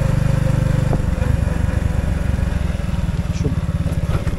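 Orion moped rolling slowly at under 40 km/h with the throttle fully closed, its small engine giving a steady low, soft puttering close by, with no other sounds over it.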